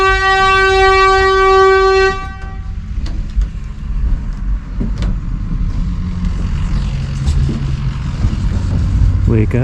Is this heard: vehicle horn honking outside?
yes